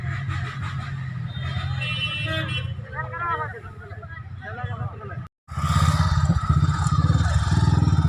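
A crowded bus rolling along a road in Assam, its steady engine rumble and road noise droning loudly throughout, with people talking over it and a brief dropout near the middle.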